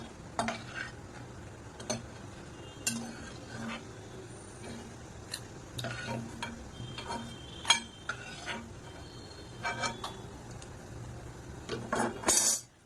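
Dried red chillies frying in hot oil in a pan, a soft steady crackle with intermittent stirring scrapes and clicks throughout, fairly quiet and close, with no voices.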